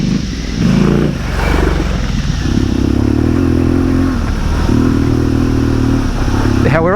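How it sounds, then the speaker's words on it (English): A Harley-Davidson Pan America adventure motorcycle riding an off-road enduro trail, its engine droning close and loud with rising revs and gravelly clatter, approaching and passing near the end. "I've just gone ahead so we can get a good look at the Pan America, doing some real off-road riding."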